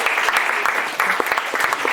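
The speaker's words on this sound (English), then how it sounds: "Everybody give a round of applause." Audience applause after a talk on the Berlin Airlift, brisk crowd clapping with a few louder individual claps standing out near the listener.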